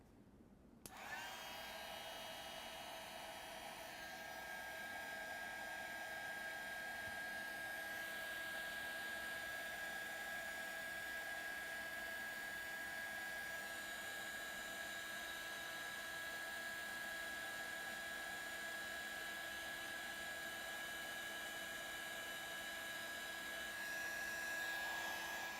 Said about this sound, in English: I'm going to take my multi-use heat tool and go ahead and dry some of this paint.